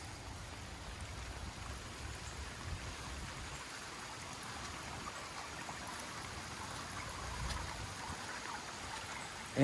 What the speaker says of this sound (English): And it's really starting to rain now.